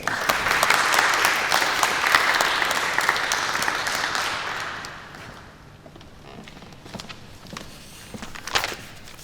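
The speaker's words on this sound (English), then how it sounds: "we should just give him a bit of a round of applause" Audience applause at a UK social enterprise community event, loud and sustained for about five seconds before thinning into scattered claps and faint room noise.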